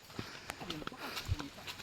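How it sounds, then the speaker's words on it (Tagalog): Horse used to carry produce walking nearby, its hooves giving irregular clopping knocks beneath someone talking and faint background noise. "ayan ang number 1 transportation dito ng produkto, kabayo"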